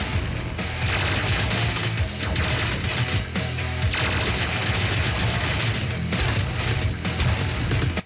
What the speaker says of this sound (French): Ok, il tire 3 fois des grenades.